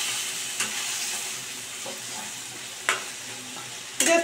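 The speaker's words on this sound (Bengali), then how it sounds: "জাস্ট আমি একটু অল্প করে নাড়িয়ে দিলাম" Chicken pieces sizzle steadily in a pan for a Bengali chicken kosha, with a constant frying hiss broken by a few sharp scraping clinks of a spoon being stirred through, the loudest near the end.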